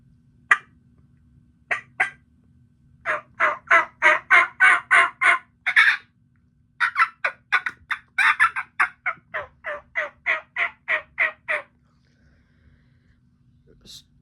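A turkey hunting call played at medium volume, a series of close, rhythmic yelps and clucks in quick runs with short pauses between them.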